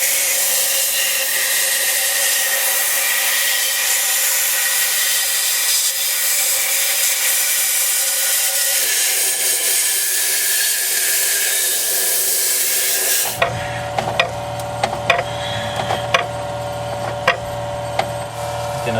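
Compressed air blasts steadily to clear debris from engine cylinders during a cylinder head install, a loud continuous hiss. It gives way to clattering and scraping with a low hum.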